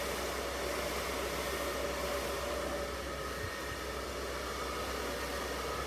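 A hair dryer blows steadily and loudly while hair is blow-dried with a paddle brush, a continuous, even rushing hiss with no pauses and no talking.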